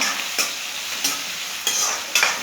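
Green chilies and onions frying together in a pan for egg masala crackle and sizzle continuously, broken by four sharp scraping stirs at regular intervals, close and loud with no voices.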